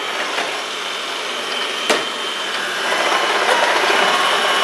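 A Xiaomi Mi robot vacuum cleaner runs up close with a steady, hissing whir. A single sharp click lands midway, and the motor grows slightly louder toward the end.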